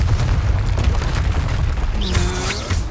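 Confringo fire spell exploding in Hogwarts Legacy on PS5, a heavy booming blast with rumbling low end and sparkling magical shimmer toward the end, loud and close.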